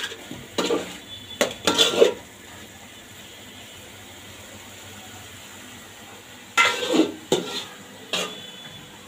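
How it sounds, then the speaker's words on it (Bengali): Meat being browned in a pot for biryani, with bursts of metal spoon scraping and clattering against the pot at the start and again near the end, separated by a quieter stretch of low background hiss. "এখানে মাংসটা আবার একটু কষায় নেই"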